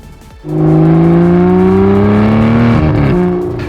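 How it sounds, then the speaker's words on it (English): An Aston Martin Vantage V12 S's naturally aspirated V12 engine revs hard and holds a steady, loud, rising drone for a few seconds before easing off. "A small package with a giant naturally aspirated V12 in it."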